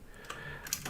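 A few quick key clicks on a computer keyboard while typing a tilde, light taps close to the microphone over a faint hiss.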